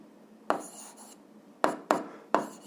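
A pen or marker scratching out a physics formula on a board or paper, a few short separate strokes close by with quiet pauses between them and no talking.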